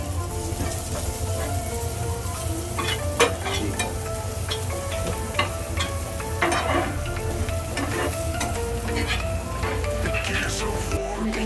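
Garlic already golden brown sizzles in a pan as chopped red and green chilies are added for a chicken garlic fry, giving a steady close frying hiss with intermittent clinks of stirring.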